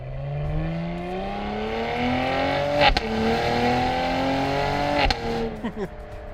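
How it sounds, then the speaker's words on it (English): A 2021 Cadillac twin-turbo engine revs and climbs in pitch through gears, with sharp shift pops between pulls and a fluttering release at the end. "There's definitely a lot of spool up in those turbos."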